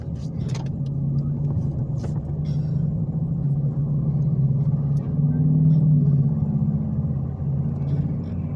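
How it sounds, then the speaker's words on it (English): A steady roar of busy street traffic, cars rumbling past continuously at close range with no pauses, a broad low engine drone filling the whole stretch with no voices present. "I gotta get to the other side of the street across all of that traffic"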